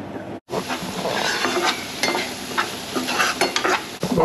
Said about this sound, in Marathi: तेल टाकून पहिले खडे मसाले हे करून घेऊ ना.